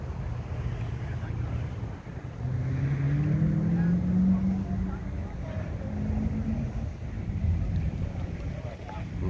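An old car's engine rumbles and rises as it passes close by during a car club morning run in Chubbuck, Idaho, then fades, with steady road noise and faint talk underneath.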